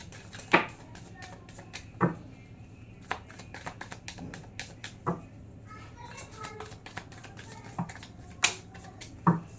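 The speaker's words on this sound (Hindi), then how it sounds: "This is my last shuffle." Tarot cards shuffled by hand, giving scattered soft taps and riffling clicks at an irregular pace, fairly quiet and close.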